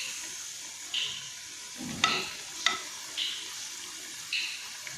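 Potato pakoras fry in hot oil under a soft, steady sizzle, broken by a few sharper clinks and scoops as pieces are moved or lifted out, with no talk.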